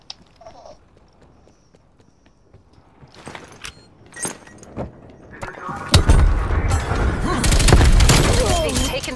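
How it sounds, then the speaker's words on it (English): Grenade explosions and gunfire in a Call of Duty Cold War Search and Destroy match, sparse sharp bangs building into a loud, dense barrage of blasts and shots, with voices talking over it. "Some people stop chucking grenades at me, please."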